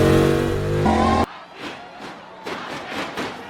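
Race cars roaring off the line at the start of a race in the Cars cartoon, with a loud sustained engine blare that cuts off, followed by a string of whooshing pass-bys and crowd noise.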